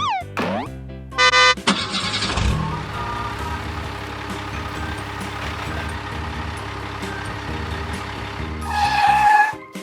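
Cartoon trailer truck arriving with new wheels: a steady engine rumble with short beeping tones at the start, a hiss of air, and a rising whine near the end.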